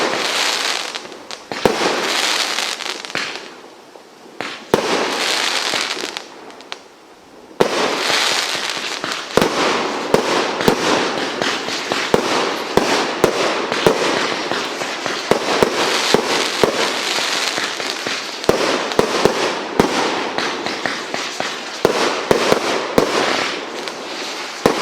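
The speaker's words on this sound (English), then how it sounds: "So we've got Dr. Jekyll tonight." A consumer fireworks cake called Dr. Jekyll fires a long rapid barrage of loud bangs and crackling bursts, with brief lulls between volleys, heard outdoors at night with no talking.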